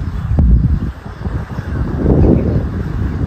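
Wind gusting across an open golf course at Amverton, a steady broadband rush with low buffeting rumble that swells toward the end, loud and close on the microphone.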